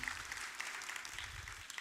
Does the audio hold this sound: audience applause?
yes